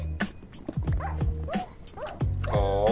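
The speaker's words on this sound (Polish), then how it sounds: "Tylko po co mi te psy?" Dogs in a Minecraft lucky block game bark and yip repeatedly in short bursts, close and loud, with other game sound effects mixed in and no talk.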